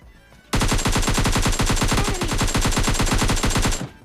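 A G36C assault rifle fires in PUBG Lite gameplay, a long continuous automatic burst of rapid, evenly spaced shots lasting about three seconds after a brief quiet start.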